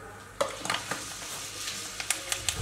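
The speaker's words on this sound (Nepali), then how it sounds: "सुरुमा तेल खरिसक्यो अनि यो मेथी राखेँ" Fenugreek seeds sizzle and crackle in hot oil in a pan, a steady quiet fry with several sharp pops and stirring clicks.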